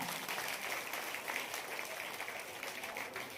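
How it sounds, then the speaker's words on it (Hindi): Applause at a government senior secondary school Independence Day ceremony, a steady crowd clapping that holds evenly through the moment, fairly faint and distant, with no voices over it. "जोरदार तालियां।"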